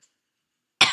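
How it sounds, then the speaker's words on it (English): A single real cough from a person with a winter cold bursts out after near silence, short and harsh, loud and close. "That was a real cough. That was not fake."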